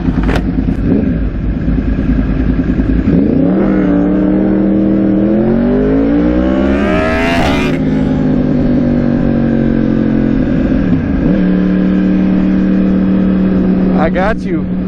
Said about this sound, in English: let the bike warm up for a second